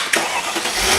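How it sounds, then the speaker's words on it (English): A car engine turning over and catching, then settling into a loud, steady running note, heard close up and with no voices. "So we'll go ahead and turn on the engine in the car."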